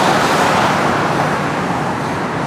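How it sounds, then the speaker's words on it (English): Road traffic heard from a community park: a loud, steady, continuous roar of passing vehicles with no distinct breaks. "We can hear traffic"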